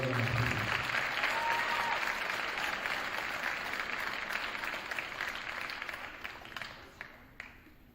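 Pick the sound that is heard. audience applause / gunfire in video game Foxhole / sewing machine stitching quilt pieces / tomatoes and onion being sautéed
audience applause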